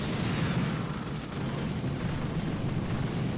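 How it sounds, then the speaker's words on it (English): Explosions from bombing machine gun and flamethrower defenses in a video game form a dense, steady roar of blasts and rumbling that fills the whole stretch without a break. "he's bombing out this machine gun and this flamethrower"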